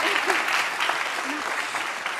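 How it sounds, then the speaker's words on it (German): A studio audience at a Schlager music show claps steadily and densely, a full round of applause at moderate distance with a brief voice or two underneath. "Mit diesem Applaus sagen wir Dankeschön."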